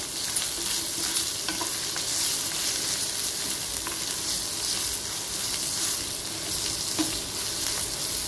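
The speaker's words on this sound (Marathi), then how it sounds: "मसाला चांगला भाजून घ्यायचा" Spice masala of turmeric, red chilli powder, coriander powder and garam masala roasting in a pan for tomato bhaji, a continuous close sizzle with frequent light scraping stirs throughout, no voices.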